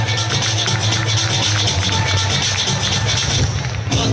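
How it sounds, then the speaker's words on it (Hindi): At a school annual function, an audience claps and cheers loudly for a young martial arts medal winner, a continuous dense roar of applause with crowd noise and a low hum underneath. "स्वागत करें इस बच्ची का जोरदार तालियां बजा करके"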